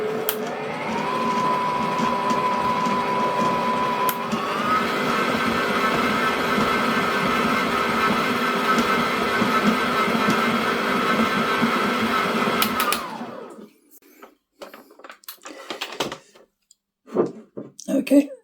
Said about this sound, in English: What I'm going to do is just give it a little bit of a mix up